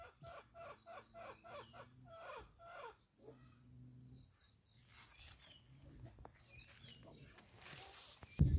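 Chickens on a rain-soaked farm give a run of short, rhythmic clucks up close, then quieter, scattered calls follow over a low background, ending in a sudden loud bump.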